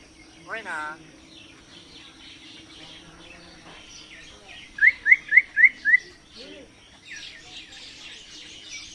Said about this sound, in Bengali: দেখুন ময়না পাখি কত সুন্দর কথা বলে।